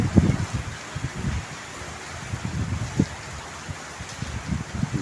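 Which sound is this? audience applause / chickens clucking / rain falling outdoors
rain falling outdoors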